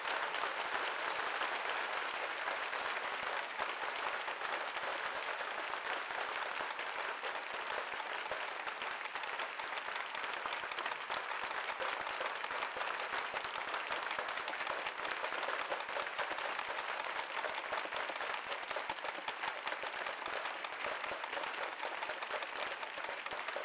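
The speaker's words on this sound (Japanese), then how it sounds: "鈴木公和ヘッドコーチに大きな大きな拍手をお願いいたします" Sustained, even applause from the audience at a Seahorses Mikawa basketball fan festival in Kariya honors the head coach, a long, steady wash of many hands clapping with no talk over it.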